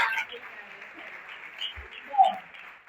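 Applause from an audience at a gastronomy academic week talk, honoring the FRJ festival: a steady, moderately loud wash of clapping that swells briefly near the end, with voices talking over it.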